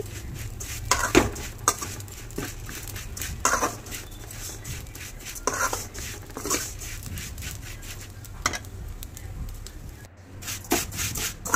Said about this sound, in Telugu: సేమియా బాగా ఫ్రై చేసుకోవాలి